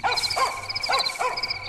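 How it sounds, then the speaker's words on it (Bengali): Dog barking at night in a sleeping village: four sharp barks in an uneven rhythm, fairly close and loud, with no talk over them. "কুকুর ঘেউ ঘেউ করে ডাকছে,"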